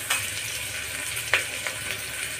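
Onions fry in mustard oil in a pan with a steady, close sizzle, broken by a couple of soft stirring scrapes.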